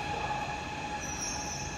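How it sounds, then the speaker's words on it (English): A subway train rumbles steadily in a metro station, a continuous mid-level roar with faint wheel squeal and high metallic hiss, no voices. "That subway have arrived"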